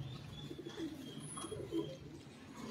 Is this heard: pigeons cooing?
yes